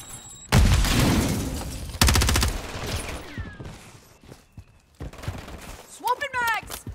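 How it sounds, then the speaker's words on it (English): In a shooter video game, a Semtex grenade blast and bursts of gunfire boom and crackle in loud, dense surges, with sharp shots and game voice callouts in between. "Throwing Semtex."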